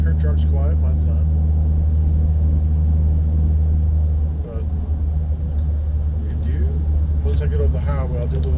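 Deep droning exhaust from a 2023 Chevy Silverado with the 2.7 turbo and muffler and resonator deleted, a steady low rumble heard from inside the cab while someone talks over it.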